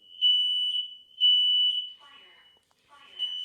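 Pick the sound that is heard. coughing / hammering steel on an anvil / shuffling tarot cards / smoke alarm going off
smoke alarm going off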